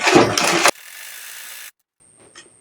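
Sewing machine running a double stitch on a blouse, a short loud mechanical burst, then a softer whirr and a pause, followed by a faint click.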